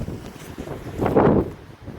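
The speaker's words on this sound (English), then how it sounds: "A bit windy today." Wind buffets the microphone in a brief gust, a low rumbling whoosh that swells and then fades.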